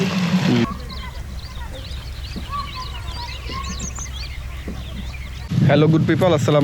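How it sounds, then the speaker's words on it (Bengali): A Japanese jungle fowl calls in short bursts against a steady low background hum, with a voice speaking before and after the calls. "এটা হলো জাপানি জঙ্গলি মুরগি"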